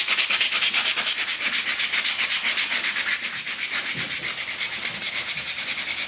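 Wooden hair clip being sanded by hand with 240 grit sandpaper, a rapid, even back-and-forth rasping of quick close strokes that runs steadily throughout, slightly softer in the second half, with no talking.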